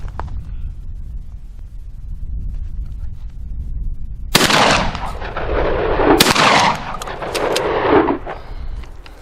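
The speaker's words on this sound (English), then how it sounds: "I'm going to fire 2 rounds, and then we'll go down and see how many pellets are on target." A Citadel Boss Hog 12 gauge shotgun fires two loud, sharp rounds a couple of seconds apart outdoors, each blast followed by a rolling echo that decays.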